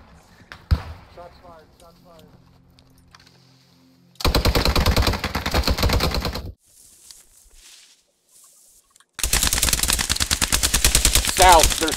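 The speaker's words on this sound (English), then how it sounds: "Shots fired, shots fired." Loud sustained bursts of rapid automatic gunfire in the video game Post Scriptum, two long volleys close by separated by quieter moments, with players talking in between.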